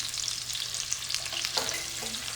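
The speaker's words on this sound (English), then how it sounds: "But I'm gonna just saute that." Shredded cabbage sautéing in a pan gives a soft, steady sizzle with a few faint stirring scrapes, close but quiet and with no voices.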